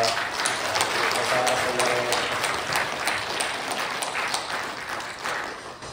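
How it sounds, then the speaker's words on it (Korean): Church congregation applauding at a Christmas Sunday service, a dense steady patter of many hands filling the room for the full stretch, fairly loud and even throughout. "다시 한번 우리가 크게 박수로 수고하셨습니다"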